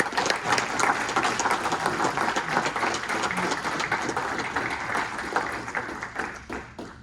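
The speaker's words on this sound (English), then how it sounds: "Can we all please clap" Steady applause from an audience fills the whole stretch, dense clapping that fades slightly toward the end.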